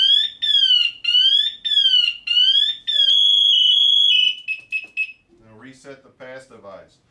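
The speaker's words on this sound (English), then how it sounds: "This will be the pre-alert mode. You notice the lights and then the noise." An SCBA PASS device sounds its pre-alert alarm: loud, shrill, warbling electronic beeps repeat in a steady pulsing pattern, then change to a sustained tone that breaks into choppy bursts before a voice speaks.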